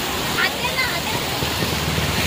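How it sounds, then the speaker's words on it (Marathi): Water splashing and rushing steadily at a tiny waterfall, broadband and continuous throughout, with a brief chirp-like sound early on. "आलेलो आहोत छोट्याशा धबधब्यावर, एकदम छोटासा है ना"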